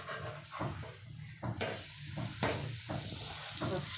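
A vegetable tomato omelette fries in oil on a pan over a medium flame, giving a steady sizzle and hiss with soft scraping and stirring touches as it is flipped, close and continuous.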